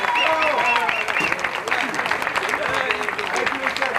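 Applause rises at a French speed championship event, a crowd clapping steadily beneath someone speaking over a loudspeaker throughout.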